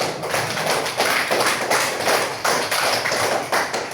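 Classroom applause in a religious studies lesson, a dense patter of hand claps from a group of students, fairly loud and sustained with uneven pulses and no talking.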